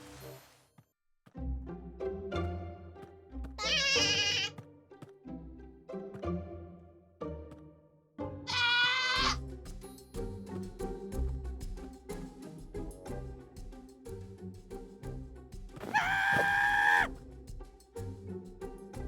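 Screaming baby goat in the video game Minecraft, letting out three loud, shrill, drawn-out cries spaced apart over a busy, rhythmic background of game sounds.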